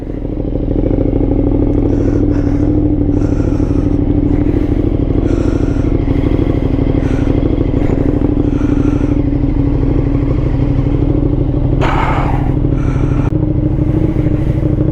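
A KTM 1290 Super Duke R motorcycle engine runs loud and close in a steady, rumbling idle, with intermittent clatter and scraping layered on top. No one speaks.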